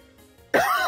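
A single sudden cough bursts out after a near-silent pause, loud and close, ending the short moment.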